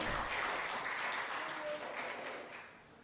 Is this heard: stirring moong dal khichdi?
no